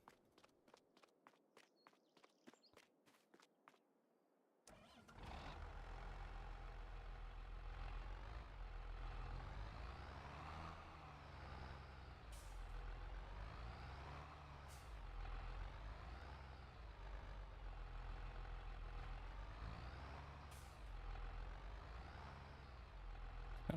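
Farming Simulator 22 tractor engine, a loud, steady diesel drone with a deep low rumble, running continuously after a few seconds of soft rhythmic footsteps, with occasional short bursts over the engine.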